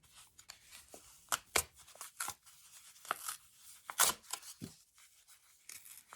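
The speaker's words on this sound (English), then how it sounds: "Now I will tear out the card." Card backing torn out of a fabric gnome ornament, a close, quiet run of short paper tearing and rustling bursts at an uneven rhythm.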